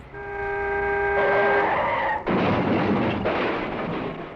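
A 1960s car brakes hard and skids, a loud sustained tyre screech that cuts off abruptly into a broad roaring rush of noise, with no talk.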